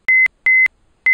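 Three short electronic beeps from a phone in a video game called Undecember, each a steady pure tone bracketed by clicks, evenly spaced and fairly loud, with no talk over them.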